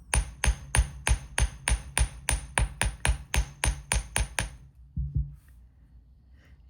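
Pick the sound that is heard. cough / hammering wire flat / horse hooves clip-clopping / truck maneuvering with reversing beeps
hammering wire flat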